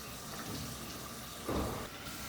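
Water runs steadily from a tap with a hissing flow, briefly splashing louder in the middle as something is rinsed under it.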